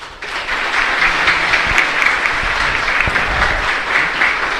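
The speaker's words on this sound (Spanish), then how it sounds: "con este caluroso aplauso te damos las gracias" Warm applause from the congregation thanking the priest at a Catholic Mass in church: dense, even clapping that rises quickly and holds steady for several seconds.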